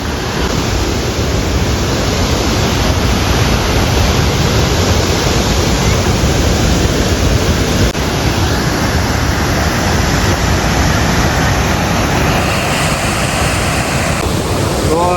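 A loud, unbroken roar of Jamjir Waterfall at Jamvala in Gir, Gujarat, close by, with rushing water filling the whole sound and no voices.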